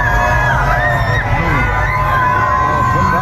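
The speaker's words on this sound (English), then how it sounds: "People out in the streets cheering for Donald Trump." A street crowd cheers loudly for Donald Trump, dense continuous shouting, whoops and yelling voices close and overlapping throughout, with no clear single speaker.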